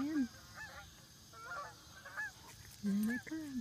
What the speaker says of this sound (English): Here they come. Hear the geese?